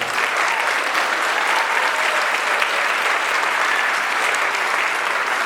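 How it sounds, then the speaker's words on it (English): A concert audience applauds a middle school jazz band, producing a broad, sustained roar of clapping that holds at an even level throughout, full and close. "Give them a round of applause."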